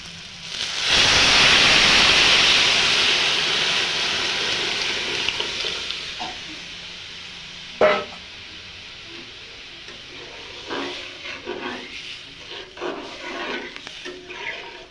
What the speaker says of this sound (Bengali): এখন ডালটা ফোড়ন দিয়ে দিব।